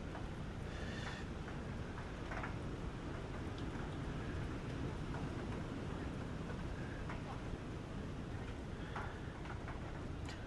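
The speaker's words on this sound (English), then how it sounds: "Can you hear that rain coming through the mic?" Rain patters on an outdoor microphone at a surf beach at Burleigh Heads, a constant dense hiss of drops with occasional sharper taps, fairly quiet and unbroken throughout.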